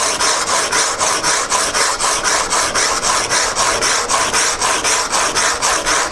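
A steel chisel rubbed back and forth on 150 grit sandpaper during chisel sharpening, making a close, loud, evenly rhythmic rasping scrape with about three strokes per second and no pauses.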